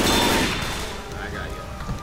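A loud, dense burst of video game gunfire opens the moment and then tails off into a rumbling decay over about two seconds.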